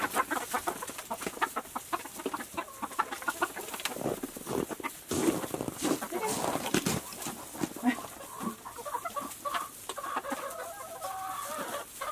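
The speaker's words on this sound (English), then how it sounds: "we're gonna go out and feed the chickens those leftover pike carcasses." Chickens on a farm cluck steadily at close range while being fed pike carcasses, with scattered louder squawks and calls overlapping in a busy, continuous flock chorus and no talking.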